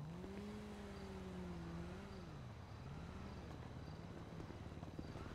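A video game car engine hums past at a distance in a GTA roleplay server, with a wavering pitch that rises and falls, quiet and alone against faint background noise.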